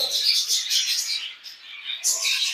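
Newborn budgerigar chicks give thin, high chirps in a steady overlapping stream that dips briefly and then returns, close and fairly quiet, with no talk over it.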